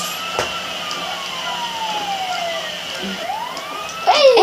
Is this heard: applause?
no